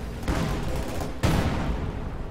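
Artillery barrage in Company of Heroes 2, two heavy explosive bursts about a second apart, each with a booming rumbling tail, loud and close with no voices.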